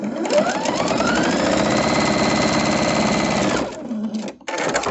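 Sewing machine stitching a quilt, a loud, rapid, even mechanical whir of needle strokes running steadily for several seconds before stopping, followed by brief softer rattling and a short restart.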